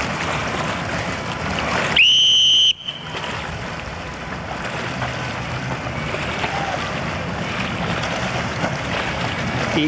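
One sharp, shrill coach's whistle blast lasting under a second cuts through steady outdoor wind and water noise at a swim training session.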